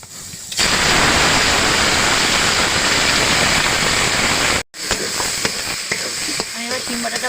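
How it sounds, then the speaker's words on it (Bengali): Ground bean paste hits a hot oiled pan with a sudden, loud, sustained hiss that cuts off briefly, then continues as a lighter sizzle with scattered clicks. "আমার ভাজা হয়ে গেছে, এবার আমি দেবো শিম বাটাটা।"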